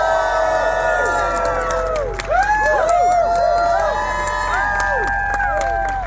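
An excited audience at a Scott Pilgrim Takes Off convention panel cheers, whoops and chants loudly and continuously, with many shouting voices close and overlapping.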